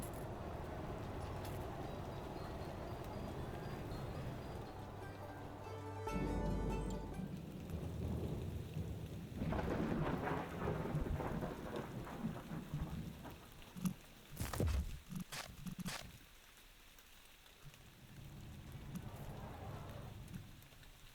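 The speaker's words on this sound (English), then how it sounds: "because of the thunderstorm" A thunderstorm with rain in Parkitect, a steady faint patter of rain broken by low rumbles of thunder and a few sharper cracks, quiet throughout.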